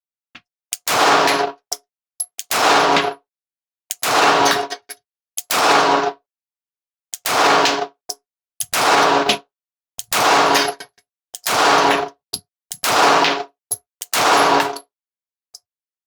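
Sig P365 XL and Springfield Hellcat RDP pistols fire at a silhouette target about 15 yards away on a range: around ten loud, sharp shots, each followed by a brief echoing tail, spaced roughly a second apart.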